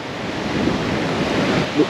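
Sea waves wash onto Lamai Beach on Koh Samui, producing a steady surf roar mixed with wind buffeting the microphone.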